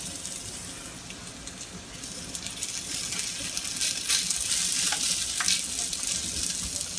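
Potato latke batter sizzles and fries on a hot waffle iron, a steady bright crackle with small pops, moderately quiet and continuous with no talking.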